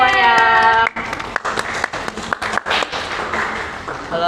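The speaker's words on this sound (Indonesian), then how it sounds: "Tepuk tangan dong semuanya" Applause from a small group of podcast participants, a short burst of uneven, close clapping that follows a musical jingle and thins out into scattered individual claps.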